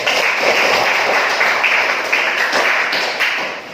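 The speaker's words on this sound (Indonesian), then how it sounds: "Berikan aplaus untuk Paulus." A classroom of students claps for a classmate named Paulus, a dense, close burst of applause that holds steady for several seconds before thinning out at the end.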